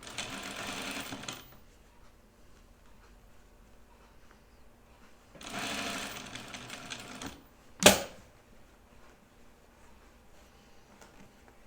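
A sewing machine stitches fabric for a guinea pig sewing project in two separate runs, each about one to two seconds long, with a sharp click between them. No one speaks.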